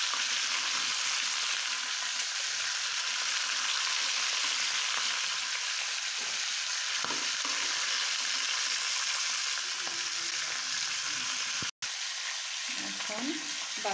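Lightly fried fish being stirred in a sizzling pan for a Bengali fish curry with sweet pumpkin and katua data, steady frying hiss throughout with occasional soft stirring scrapes and a brief break near the end.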